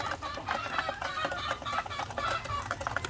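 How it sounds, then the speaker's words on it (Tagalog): White leghorn hens that have just started laying, clucking in a farmyard with eggs laid on the ground, several birds giving repeated short clucks and murmurs, close and fairly soft. "Ito naman yung mga white leghorn natin na bagong nangingitlog. So, ito sila ngayon."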